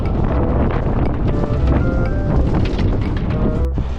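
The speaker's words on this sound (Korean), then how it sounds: "와 바람 봐라" Strong wind buffets the microphone while cycling on a long-distance ride, a constant loud low roar that fills the whole stretch with no speech.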